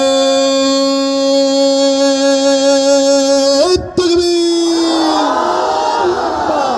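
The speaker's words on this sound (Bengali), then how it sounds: "দেখো কণ্ঠের পুরোটা আওয়াজ ছেড়ে একটা তাকবীর হবে।" A large crowd at a religious sermon gathering loudly shouts the takbir chant. A long, sustained voiced call rings out first, then a broad, rough roar of many voices answers.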